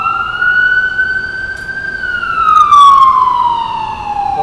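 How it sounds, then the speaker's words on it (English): A loud wailing ambulance siren rises and falls in a steady sweeping tone, passing close by on a rainy downtown Manhattan street with faint traffic rumble underneath. "It's an ambulance going by."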